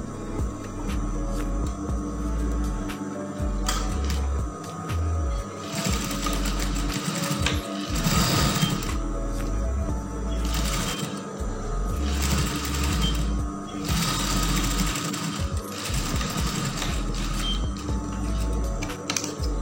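A sewing machine stitches the lower section of a dress made of brocade combined with plain fabric. It gives a steady, close whir that runs in long stretches with brief pauses and no talking.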